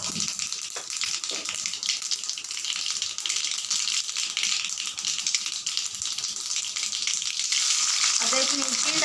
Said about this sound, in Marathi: आणि आपल्याला बारीक गॅसवरच फोडणी द्यायची. आता यात राई टाकली आहे.